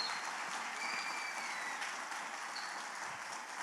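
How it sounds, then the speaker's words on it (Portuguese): A church congregation applauds its musicians and singers, a steady, fairly distant wash of many hands clapping that stays even throughout. "vamos aplaudir os nossos músicos e os nossos cantores aqui."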